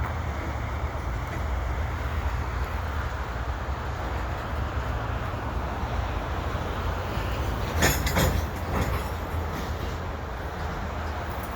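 A freight train at Lachine EXO station on a winter afternoon, a steady heavy rumble of wagons rolling past close by, with a brief burst of clanking and wheel noise partway through.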